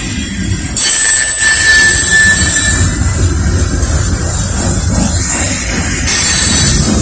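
A CSX freight train rumbles steadily past close by in downtown Lynchburg, Virginia, with high metallic wheel squeals ringing over the continuous roar.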